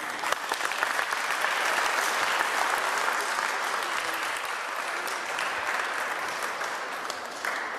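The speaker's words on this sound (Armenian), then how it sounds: "բերեք ծափահարենք մեր հայ մարզիկի վաղվա զինվորին" An audience at a national youth and adult championship event gives sustained, dense applause for several seconds, a loud continuous clatter of many hands at fairly close range.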